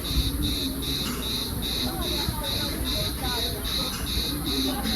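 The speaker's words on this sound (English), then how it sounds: "there are like loads of crickets or locusts or something in the trees. Like, listen to that noise." Crickets or locusts in trees chirp in a steady pulsing rhythm, high and continuous, over soft background noise, at the Green Canyon.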